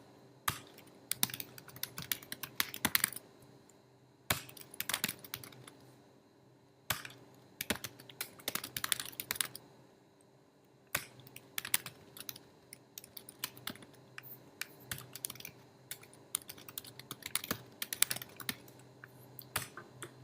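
Rapid clattering keystrokes on a computer keyboard come in quick bursts separated by short pauses, close and fairly crisp over a faint steady hum.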